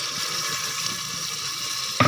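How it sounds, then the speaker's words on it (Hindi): Half a cup of water is poured into potatoes cooking in a pan, a continuous hissing, splashy pour that ends in a sudden sharper burst of liquid. "अब इसके अंदर 1/2 कप पानी का डालेंगे ताकि ये आलू तैयार हो जाए"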